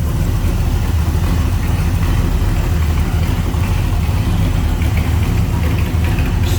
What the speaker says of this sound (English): Smooth running, good sounding engine.